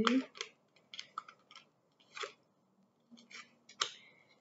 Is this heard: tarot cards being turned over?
yes